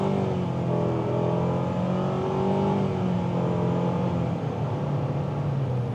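A 2025 Mitsubishi Outlander SEL accelerating, heard from inside the cabin as a steady, moderate engine drone with a rising tonal whine.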